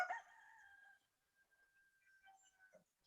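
A rooster crows once, a drawn-out cock-a-doodle-doo that fades and trails off, heard faintly in a quiet setting with no talking.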